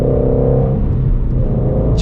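Shelby GT350 Mustang engine giving a low, steady burbling rumble at moderate revs, loud and close, running throughout without talk.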